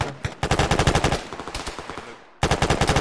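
Automatic gunfire in a military video game, rapid rhythmic bursts of shots, loud and close, with a short break before another burst.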